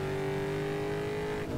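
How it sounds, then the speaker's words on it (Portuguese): An SUV's engine races at high revs in the street-racing game Need for Speed Underground 2, a steady, loud synthetic drone with a sustained tonal whine that holds throughout. "Estamos correndo aqui com o nosso carro SUV."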